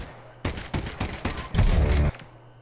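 Gunfire in Half-Life: Alyx, played on a Stargate map mod: a quick series of four loud close shots followed by a longer heavier burst, with no talking.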